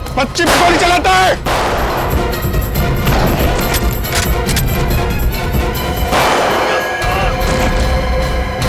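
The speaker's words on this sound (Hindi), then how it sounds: "बच्ची पे गोली चलाता है।" A CID crime drama TV episode erupts in gunfire: a sharp opening burst, then rapid overlapping shots, booms and crashing impacts. The sound is loud and dense throughout, with a fresh volley near the end.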